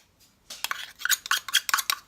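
Spoon scraping peanut butter into a mixing bowl for cookie dough, a string of short metallic scrapes and clinks in quick irregular succession, close and clear after a brief quiet start.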